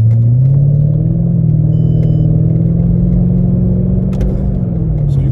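Mercedes-Benz W211 E500 V8 with mufflers deleted, heard from inside the car as a loud, deep, steady droning rumble that swells slightly when the gas is pressed in drive.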